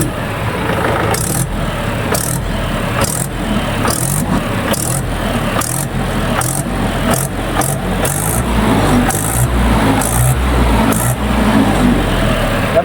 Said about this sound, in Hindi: आप लोग देखिए कितनी प्यारी आवाज है ट्रैक्टर की